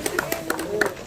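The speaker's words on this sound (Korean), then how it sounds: "큰 박수 한번 부탁드리겠습니다." Scattered hand claps from a crowd at a plaque unveiling ceremony, a few sharp bursts spread over about a second and mixed in with people talking nearby.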